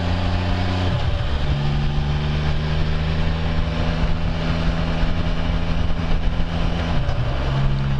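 Can-Am Spyder engine droning steadily while riding a country back road, a continuous loud hum with wind rush and a gear-change shift in pitch near the start and again near the end.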